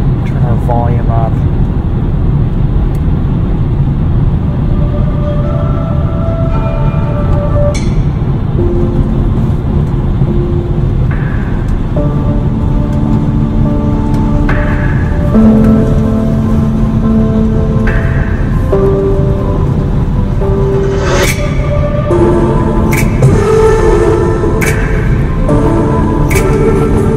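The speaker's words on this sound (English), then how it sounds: "Let's test out this Harman Kardon sound system." A test track plays through the Harman Kardon sound system of a 2023 BMW i4 eDrive40 via CarPlay. Loud, full music with sustained tonal notes and sharper accents fills the cabin without a break.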